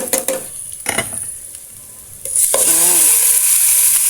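Chicken hitting a hot pan of browned garlic and onion, with clinks of a utensil first, then a loud, steady sizzle swelling as the meat goes in; someone speaks briefly.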